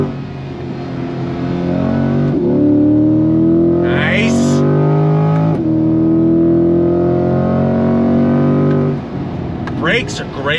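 A 2023 Chevrolet Corvette C8 Stingray accelerates hard on throttle, its engine note rising loud and steady through the gears for several seconds, with excited voices shouting over the roar inside the cabin.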